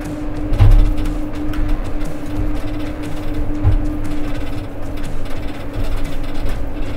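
A Huddig backhoe loader works continuously, its engine holding a steady hum beneath clanking, ratcheting mechanical noise and occasional low knocks, close and fairly loud.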